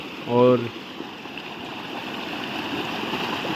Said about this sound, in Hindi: ये तो ये छोटी सबसे है, इससे बड़ी बड़ी स्ट्रीम उस साइड बह रही हैं।